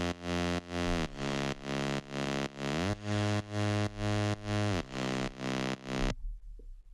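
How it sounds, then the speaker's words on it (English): A fuzzy, dirty Serum synth bass preset named 'Bass I Can't' plays a rhythmic sequence of loud, buzzing sustained notes with short gaps between them, stepping through several pitches before stopping. "It's a very fuzzy and dirty bass and it sounds like this"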